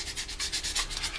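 A finer sanding block rubs back and forth over the wing of a Hasegawa 1/48 Harrier GR7 plastic model kit, giving a steady, close, dry scraping hiss in quick repeated strokes with no voices.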